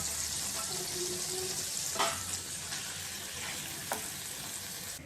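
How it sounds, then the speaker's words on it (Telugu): A sugar mixture for sama dhokla boils in a pan while being stirred, giving a continuous bubbling hiss with a few soft scrapes and knocks of the spoon, close and steady. "కలుపుతూ బాయిల్ చేసుకుందాం."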